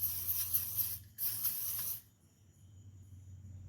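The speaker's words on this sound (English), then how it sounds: "spray this out with some WD-40 just to help prevent" Two bursts of WD-40 aerosol spray hiss inside a Ford truck, each roughly a second long with a short gap, close by, followed by quiet background hum.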